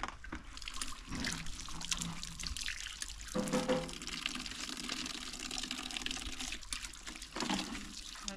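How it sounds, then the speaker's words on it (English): Water splashes and runs while a bucket is rinsed out, a steady close wash of liquid with brief breaks in the flow. "Just rinse our bucket. Done."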